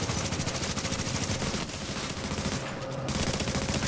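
Sustained automatic LMG fire in Tom Clancy's The Division, a rapid, even stream of shots rattling continuously with a brief lull partway through before resuming, loud and dense.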